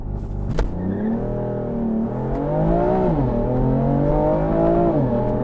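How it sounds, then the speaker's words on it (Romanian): A BMW M4 with a 450-horsepower engine pulls away hard from a standstill, its engine note rising through the revs and shifting gears in a loud, sustained, close-up roar. "Piciorul pe frână, accelerăm."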